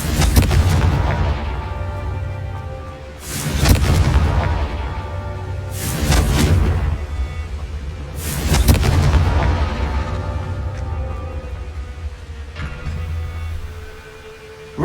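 Four loud booming blasts of the Confringo fire spell in the Hogwarts Legacy video game, spaced roughly every two and a half seconds, each a sharp explosive burst with a rumbling tail, heard alone.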